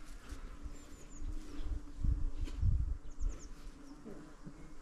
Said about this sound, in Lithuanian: Bitės va dirba jau savo darbu.